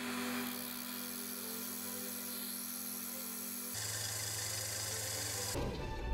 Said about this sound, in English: We're going to take it to the sander.